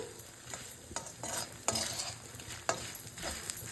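Asafoetida is stirred into red chillies frying in oil for a chutney, soft sizzling under a series of scraping stirs, fairly quiet and close with no voices.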